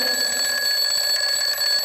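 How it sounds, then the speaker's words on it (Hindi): An alarm clock rings continuously and loudly, a steady high-pitched electronic tone with a fast pulsing buzz that holds throughout without any talking. "हम सुबह इसी आवाज़ यानी अलार्म की आवाज़ से जान पाते हैं कि हमारे उठने का समय हो गया है।"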